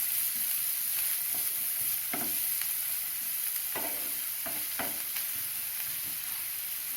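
Finely chopped onions sauté with cinnamon and cloves in a pan, giving a constant close sizzle broken by several sharp stirring scrapes and taps.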